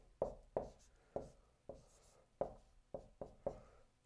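Pen or marker strokes on paper or a board while working through a calculus series problem: about eight sharp tapping strokes spaced irregularly across a few seconds, close and fairly quiet, with no talking.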